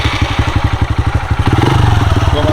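Honda CRF150 dirt bike engine idling close by with a steady, even thumping pulse that quickens and thickens slightly partway through as it is blipped.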